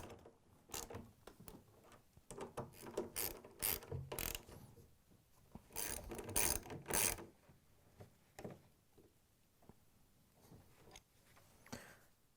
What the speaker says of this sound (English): we can use the ratchet to tighten them down.